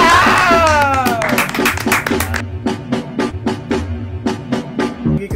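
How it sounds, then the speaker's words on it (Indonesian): Hands clapping in a small podcast studio: a brief toned vocal flourish opens, then a dozen or so sharp, evenly spaced claps ring out close and loud in a steady rhythm. "Tepuk tangannya dulu"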